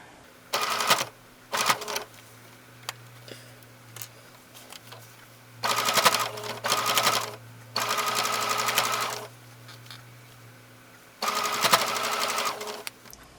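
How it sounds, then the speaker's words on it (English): A sewing machine stitches a zip into quilted or bulky fabric, running in four separate bursts of close, steady whirring with short pauses between them. "So just hold your thread tails and start."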